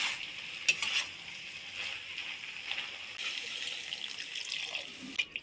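Cauliflower stalks and mixed vegetables sizzle and hiss steadily in a hot pan as they are stirred for a Bengali chorchori, with a few sharper scraping clicks over the continuous frying noise and no voices.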